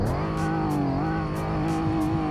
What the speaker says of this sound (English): Now let's do a rev test.